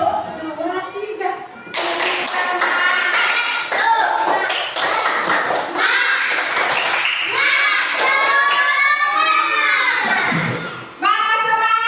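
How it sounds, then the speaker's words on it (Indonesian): Classroom of children does a rhythmic spirit clap with their teacher, sharp group claps in patterned bursts mixed with loud shouting and cheering voices, while a voice leads between them. "Kita mau tepuk semangat supaya pelajaran tetap semangat"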